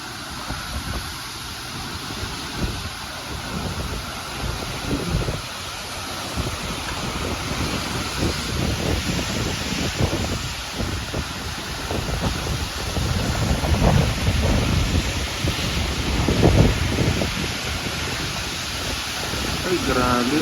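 Strong typhoon winds of Typhoon Nando at signal number 4 in Ilocos Norte roar and gust continuously, rising into heavier blasts toward the end, with people talking intermittently underneath.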